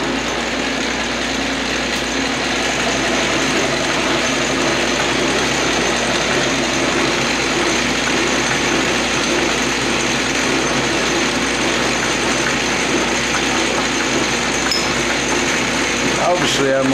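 An electric motor spins a Craftsman three-jaw chuck mounted on a rotary table, giving a steady, even whir with a constant hum that runs unbroken throughout at moderate, close level.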